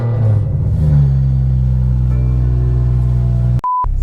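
Stage 2 tuned BMW engine cranking and catching into a loud, deep, rumbling idle that settles steadily, cut off at the end by a short electronic beep tone.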